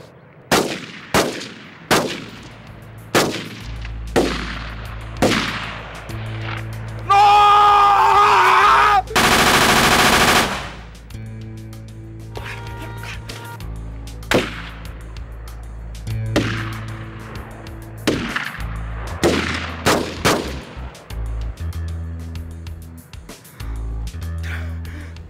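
Gunfire in a film shootout: a rapid series of sharp, loud shots in bursts, with a sustained roaring blast midway and music-like tones underneath, no speech.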